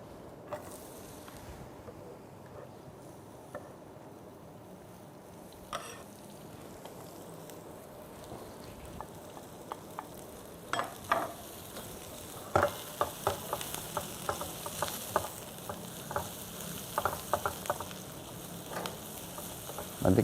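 Onions frying in hot oil for laham mugalgal hiss with a steady sizzle, joined by sharp scraping and clicking as they are stirred, growing busier and louder toward the end.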